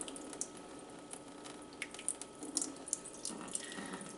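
Water pours and trickles through a strainer into a sink, with scattered drips and splashes rising above a continuous running rush, close and moderately quiet.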